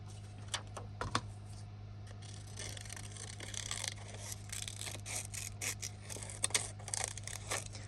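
Scissors snip through paper ephemera while junk journal tags are made, giving faint, close, irregular clips and rustles of paper at low level, with no talk.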